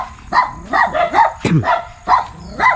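A shaggy, long-haired farm dog barks repeatedly and close by, about seven or eight sharp woofs in an uneven rhythm, with a whimpering yip in between.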